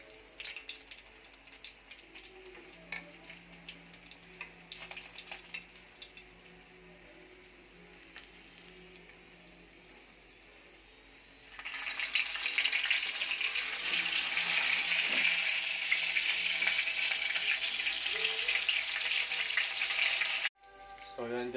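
Dried fish frying in hot oil, a loud steady sizzle and crackle that starts partway through and holds continuously until cutting off near the end, after quieter kitchen clatter.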